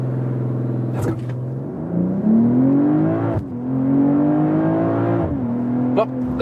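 BMW M340i facelift under launch-control acceleration, its engine droning loudly and rising in pitch through gear changes marked by brief dips, heard from inside the cabin.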